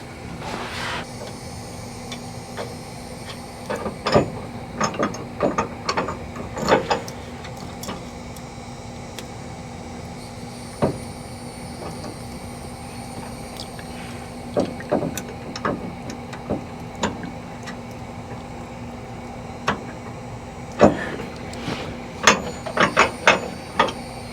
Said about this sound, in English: So I'm tightening these nuts up, and these are those locking nuts, so you can't like hand thread them till snug. You got to literally ratchet